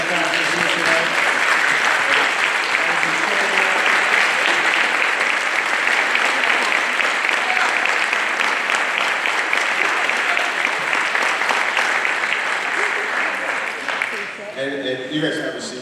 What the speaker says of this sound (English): give a round of applause to all of the benefactors here tonight